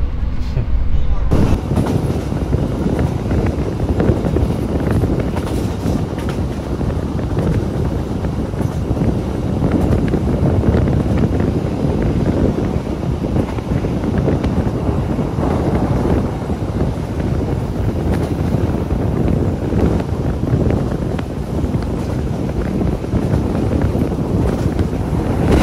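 Inside the Argo Semeru train running from Jogja to Jakarta at night, a loud, steady rumble of wheels and carriage fills the cabin. Wind-like roar and a murmur of voices sit underneath, and the noise never lets up.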